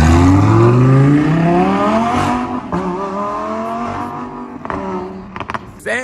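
A car engine on a cold start pulls out near a beach house, revving up in a steady rising tone, then settling into lower, uneven throttle blips as it moves off.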